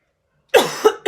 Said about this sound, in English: There's that old cough.